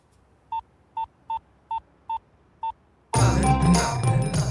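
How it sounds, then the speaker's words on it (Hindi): A phone is dialed with six evenly spaced, clean keypad tones ringing out alone in a quiet room, followed by a sudden burst of loud, busy sound. "जरा फोन तो दो। अब भी फोन करता हूँ।"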